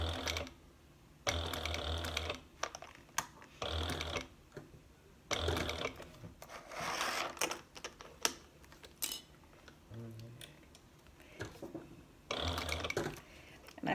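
A sewing machine stitches slick vinyl bag straps in short bursts of rapid mechanical whirring, separated by brief pauses, heard close up with no talking.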